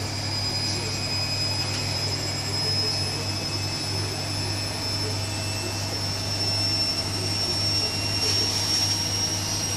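A Bosch washing machine on a high-speed spin gives off a steady, loud whine and hum with a constant low drone underneath, continuous throughout with no voices.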